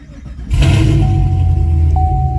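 A 2017 Camaro SS with an LT1 engine and a valvetronic exhaust, valves open on a warm start, barks up into a loud, close rev that holds a raw, droning rumble, with no talking.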